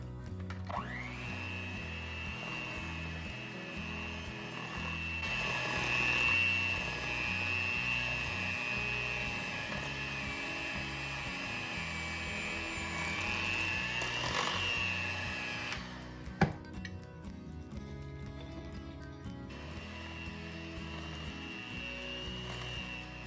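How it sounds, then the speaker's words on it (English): An electric mixer blends molasses cookie batter at medium speed, a steady whirring drone that runs evenly for about fifteen seconds, then cuts off with a clunk before a faint rustle and a quiet resumed hum. "then you're going to blend them on medium speed till they're mixed well"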